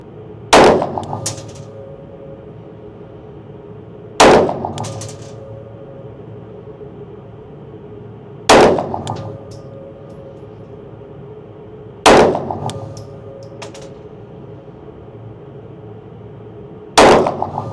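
A Glock 45 Hunter pistol fires five loud, sharp gunshots, each spaced several seconds apart and followed by a short ringing echo, with no talking.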